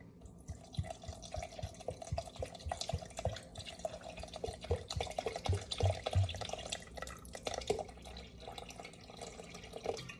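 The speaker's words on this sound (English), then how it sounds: "All right, and then 325 grams of filtered water." Filtered water pours steadily into a bowl for sourdough bread dough, a close, continuous trickling stream with splashes and drips throughout.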